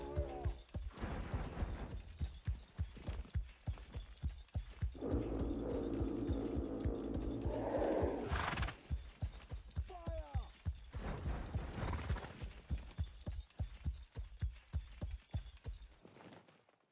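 Cavalry horses galloping in the strategy game Voor de Kroon, a steady thudding hoofbeat rhythm running throughout alongside a low battlefield hum, with a voice talking over it at times.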